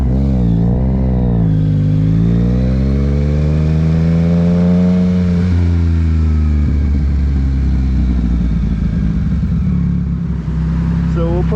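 A 2023 Yamaha MT-09 motorcycle in power mode 1 revving hard, its engine note climbing in pitch, then settling into a loud, rough, steady roar close to the listener.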